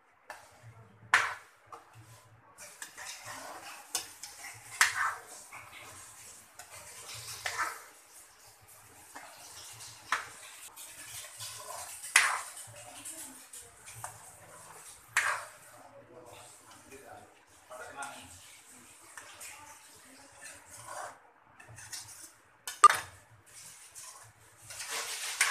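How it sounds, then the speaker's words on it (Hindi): Makhana kheer with milk and dry fruits being stirred in a pan over a gas flame, giving soft intermittent scraping and clinking strokes spread through a quiet stretch, with occasional faint sounds in between. "खीर को बराबर हमें चलाते रहना है"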